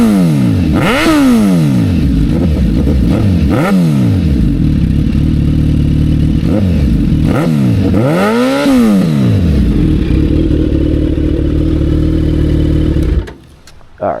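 A 2024 Suzuki Hayabusa with a full exhaust is revved repeatedly, giving several sharp, loud blips that rise and fall, then a steadier high idle before the engine cuts off.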